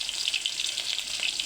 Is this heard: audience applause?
no